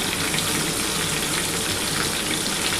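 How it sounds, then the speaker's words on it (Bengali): Water carrying leftover ground spice paste of mustard, poppy seed, green chilli and ginger gushes steadily into a pan for Bengali shukto, a dense, close, continuous pouring rush with no speech over it. "এবার যে মশলার যে জলটা আছে সেই জলটা দিয়ে দিচ্ছি"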